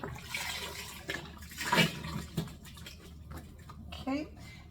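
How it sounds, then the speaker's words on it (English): Beef broth poured into a pot of cabbage soup with peppers and onions: a brief liquid splash and glug near the middle, surrounded by kitchen clatter and someone talking. "I'm going to add my beef broth and dump that all in"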